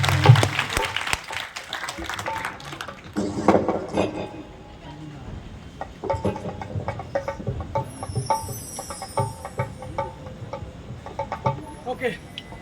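Audience at a devotional jagran for the goddess clapping in scattered bursts of applause, mixed with crowd noise and a voice speaking.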